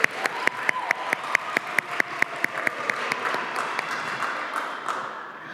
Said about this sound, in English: yeah, definitely clap for him, yeah.